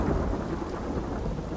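A thunderstorm in The Last of Us Part II: a loud, deep, sustained thunder roll mixed with heavy rain, no one speaking.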